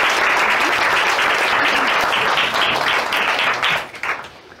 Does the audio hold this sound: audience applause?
yes